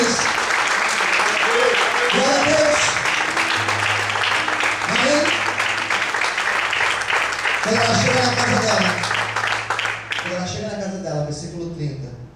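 A church congregation claps loudly and steadily for about ten seconds while voices call out over the applause and a low sustained tone hums beneath, the clapping thinning toward the end.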